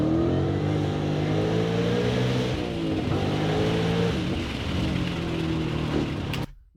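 A 2026 Ford Mustang RTR Spec 5, rated at 870 horsepower, revs loud and close with a sustained, rising and falling engine roar that cuts off abruptly near the end. No voices are heard.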